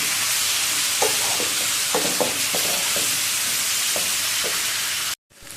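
Hilsa fish head sautés in a pan with salt and turmeric, giving a loud, constant sizzle. A spatula scrapes and stirs with repeated knocks, and the sound cuts off abruptly near the end.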